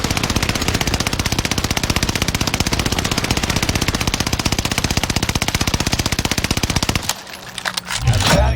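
Rapid sustained automatic fire from the Armaguera SMG in Call of Duty Warzone's Caldera map, a dense unbroken stream of loud shots for about seven seconds, then stopping abruptly into quieter game ambience.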